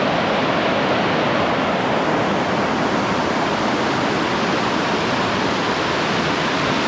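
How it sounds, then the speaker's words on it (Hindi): Loud, unbroken roar of Narhara Waterfall in Dhamtari swollen by rain, a dense steady wash of noise with no voices. "ये वो पानी बहता हुआ देखिए जा रहा है।"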